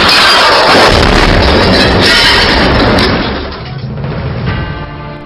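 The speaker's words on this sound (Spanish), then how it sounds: "Segundos después cae un misil seguido de una gran explosión." A loud, sustained roaring blast of a missile explosion that fills the clip, then decays into a rumbling tail with scattered debris-like crackle.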